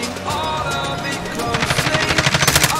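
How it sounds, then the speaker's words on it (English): Automatic gunfire in Call of Duty Warzone, rapid rhythmic bursts building loud toward the end, over a busy game soundscape with a steady mechanical hum beneath. "He's shooting at somebody."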